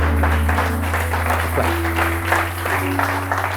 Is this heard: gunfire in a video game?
no